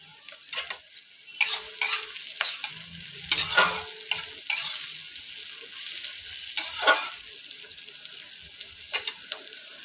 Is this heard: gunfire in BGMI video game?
no